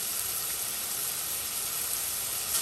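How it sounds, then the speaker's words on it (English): Celery and onions sauteing in melted butter in a pasta pan, a steady, even sizzle and hiss running unbroken throughout. "I am now sauteing my celery and my onions"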